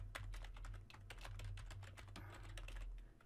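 Rapid, continuous typing on a computer keyboard, close and clear, with irregular clusters of keystrokes and no talking.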